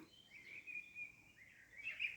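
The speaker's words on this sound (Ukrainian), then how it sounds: "як співають пташки, як в лісі гарно" Birds sing in a forest during an evening walk, giving faint, thin, high chirps and trills that come in two short bursts with quiet gaps.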